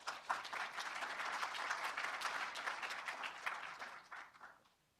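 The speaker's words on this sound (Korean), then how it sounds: "동의하시면 박수 한번 주시죠." Audience applause at a lecture hall talk, dense steady clapping from a seated crowd lasting several seconds before thinning out and fading at the end.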